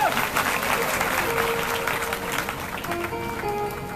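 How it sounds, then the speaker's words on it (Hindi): Loud, sustained applause from a crowd gathered for a Bhagavat Katha religious discourse, continuous clapping that fades a little toward the end as music begins underneath. "एक बार जोरदार तालियां के लिए।"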